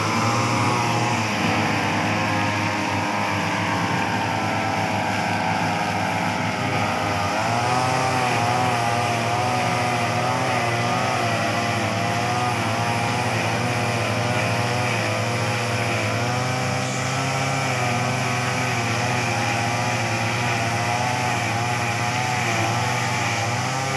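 Grass-cutting machines drone steadily and loudly throughout, their engine whine holding with slight wavering pitch and no pauses.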